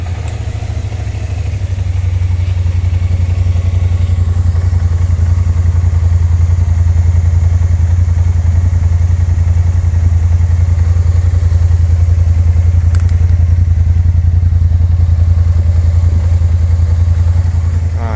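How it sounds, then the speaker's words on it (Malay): A KYMCO AK550 scooter with standard exhaust fires up and settles into a steady, deep idle, loud and close, its low throb holding evenly for over fifteen seconds with no talking. "bunyi standard Ini standard exhaust"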